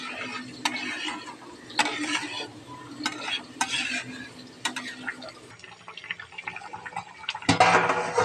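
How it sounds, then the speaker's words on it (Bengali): A spoon stirs vegetables and potatoes in a pan after water has gone in, with repeated scraping strokes over a soft bubbling simmer and a louder splashy burst near the end; no one talks. "এবার জল দিয়ে ভালো করে নাড়াচাড়া করে ঢাকা দিয়ে রাখতে হবে।"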